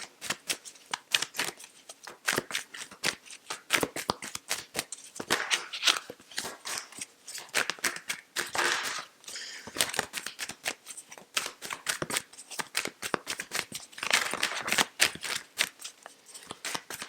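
Tarot cards are shuffled by hand in a quiet room, a steady, close run of crisp riffling and soft slapping card sounds with brief pauses, fairly faint and with no talking.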